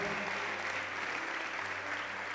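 Audience at a church congress applauding, dense continuous clapping filling the room at a steady level from start to finish.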